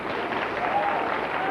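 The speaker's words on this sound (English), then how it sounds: "Can we please have a nice round of applause for the finest informant ever on this show?" A studio audience at the children's TV game show Where in the World is Carmen Sandiego? applauds in a steady, dense wash of clapping that holds throughout.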